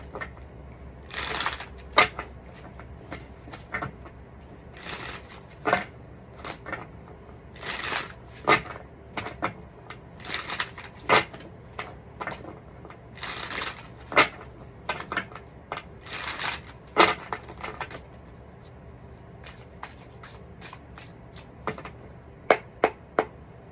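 A deck of cards is shuffled again and again before a card reading, in crisp riffling bursts that repeat at a fairly steady rhythm over a low room hum, close by and with no one talking.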